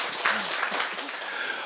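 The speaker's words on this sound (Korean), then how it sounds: "이런 박수 한번 주십시오." Audience at a talk concert clapping, a dense, steady round of applause at moderate distance, with a few faint voices mixed in.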